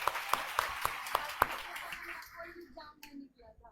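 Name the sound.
audience applause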